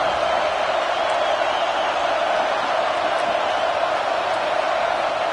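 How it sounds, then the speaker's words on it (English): Steady roar of a large stadium crowd in a college football video game during a Texas Longhorns red-zone defensive stand, a dense continuous wash of noise at constant loudness with no distinct voices standing out. "here comes the noise. This crowd is trying to inspire this defense to make a big red zone stop."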